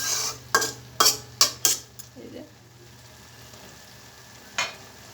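Rice and chickpeas being stirred in a pot on low heat, a quick run of four or five spoon scrapes and clanks against the metal, then quiet sizzle and one final scrape.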